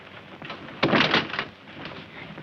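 A door in a 1941 crime drama shuts with one loud, solid thump, followed by fainter rattling and shuffling as it settles, with no speech.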